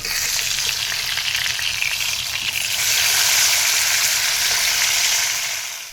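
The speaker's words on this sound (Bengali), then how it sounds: "তো মাছটা আমার এক পিট ভাজা হয়ে গেছে আর এক পিট ভাজা করে নিলাম" Rui fish pieces frying in oil in a pan, a steady, dense close-up sizzle that runs continuously and swells slightly louder midway before easing off at the end.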